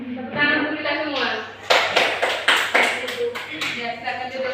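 A classroom of students breaks into a short burst of hand claps after a teacher's voice, the claps loud and rhythmic for a couple of seconds before talk resumes.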